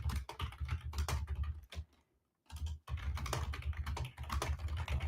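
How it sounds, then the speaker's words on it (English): Rapid typing on a computer keyboard, a dense run of close clicking keystrokes broken by a brief pause of near silence before the tapping resumes just as quickly. "they are making me type something so then I can press go"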